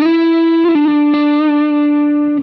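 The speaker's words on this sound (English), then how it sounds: "double tapping the Fuzz Pi HD model" Electric guitar run through a Fuzz Pi HD fuzz distortion model on a Line 6 Firehawk, sustaining one thick, buzzy note with a few quick picked re-attacks before cutting off, loud and alone.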